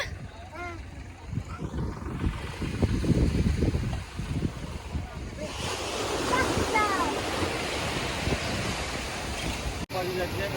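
Sea surf at Digha beach rushes and roars steadily under gusty wind noise, and voices talk over the waves in the first half.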